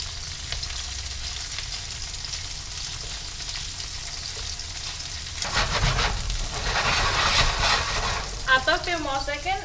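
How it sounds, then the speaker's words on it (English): Tofu sizzles and spatters in a hot pan, a steady frying hiss that swells louder as the pieces are turned, with scraping stirs and brief clatter near the end. "Now I'm gonna turn the tofu. And they start getting like golden brown."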